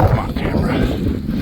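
Gusty wind buffets the microphone outdoors on a mountaintop property with an airstrip in the Ozarks, a steady low rumble of loud wind noise running throughout.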